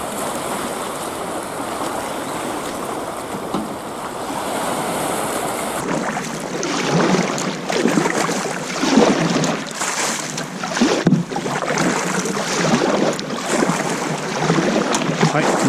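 A boat motors through a sea tunnel in the rock of Engetsu Island, waves sloshing and splashing around it, the engine and surf loud and close throughout, with a noisy wash over the second half.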